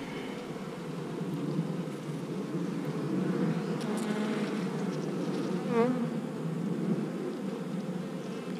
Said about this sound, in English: A lot of bees in this colony.